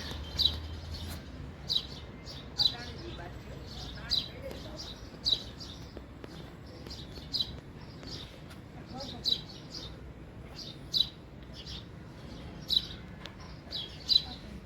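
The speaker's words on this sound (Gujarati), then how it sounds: "અહીંયા ડાળી ઉપર ચકલી પણ બેઠી છે" A sparrow perched on a guava tree branch chirps in short, regularly repeated bright calls, fairly close and clear above a quiet outdoor background with faint talk.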